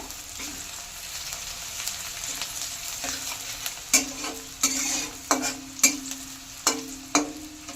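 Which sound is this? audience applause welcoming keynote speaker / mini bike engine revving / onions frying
onions frying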